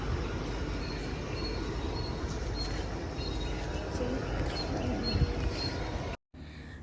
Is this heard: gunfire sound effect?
no